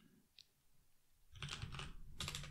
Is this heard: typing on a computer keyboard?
yes